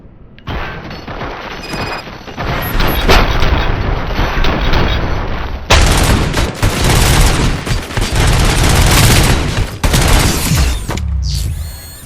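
Sustained gunfire and explosive booms from the video game RoboCop: Rogue City, with dense overlapping bursts of shots filling the scene, a brief break midway, then a renewed heavy volley before fading.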